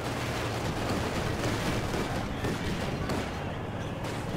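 Artillery cannon fire from the Company of Heroes 2 video game, a dense rumbling battle bed with booming blasts and scattered gunfire running throughout, loud and continuous.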